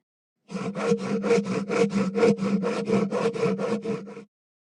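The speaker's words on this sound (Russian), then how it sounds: "Пила." A hand saw cuts through wood in about fourteen even back-and-forth strokes, close and clear with a steady rasping rhythm and silence before and after.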